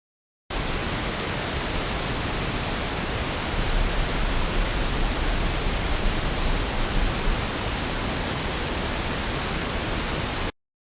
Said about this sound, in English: Now we'll go back to the first preset and try to do the exercise on pink noise.